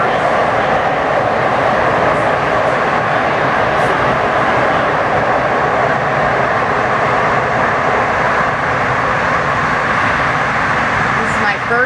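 A DART light rail train rumbles along as a steady, loud, broadband roar with rail noise, continuous from start to end without letting up.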